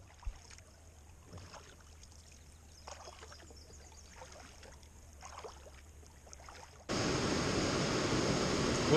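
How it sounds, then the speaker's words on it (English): A waterfall on the Ottawa River comes in abruptly as a loud, steady broadband rush, preceded by quieter intermittent splashing and knocking from a small boat on the water; no one speaks. "as you can hear in the background, I found this really beautiful waterfall"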